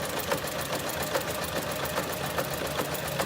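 Sewing machine stitching leggings fabric at a steady quick pace, its needle clicking in regular even pulses, close and fairly loud.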